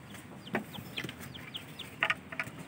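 A hen with chicks hatched the day before clucks in faint, scattered bursts of short agitated calls over a quiet outdoor background.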